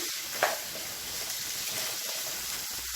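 Small onions and a medium tomato sauté in a hot pan for chutney, giving a steady, close sizzle with soft stirring scrapes and one brief clink early on, no voices.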